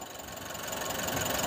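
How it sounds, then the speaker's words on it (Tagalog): A 2019 Nissan NV350 van with a twin-cam turbo engine runs at a steady idle, a close, even mechanical hum with a slight rhythmic knock and no talking over it. "maririnig nyo yung kanyang andar, napakatining pa"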